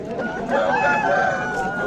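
A rooster crows in a long, drawn-out call, fairly close and clear over a steady background of farmyard noise at a poultry market in Andijan, Uzbekistan.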